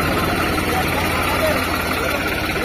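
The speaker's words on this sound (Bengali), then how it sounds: "রোটাভেটর সেটিং করতেছে, আমি একটু আপনাদের দেখানোর চেষ্টা করতেছি।" An original Italian Grinta rotavator runs during setup, its engine giving a loud, steady, droning hum with a low pulsing throb, while a voice speaks faintly beneath the noise.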